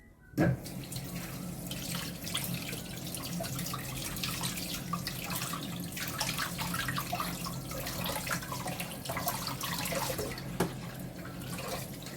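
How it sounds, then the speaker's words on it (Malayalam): Running tap water pours over hamour fish being scrubbed with rock salt in a sink, a steady close splashing with scattered handling knocks and drips, starting with a sudden burst as the flow begins. "ആദ്യം നമുക്ക് ഇത് നന്നായിട്ട് കല്ലുപ്പ് വെച്ച് ഒന്ന് വാഷ് ചെയ്തെടുക്കാം"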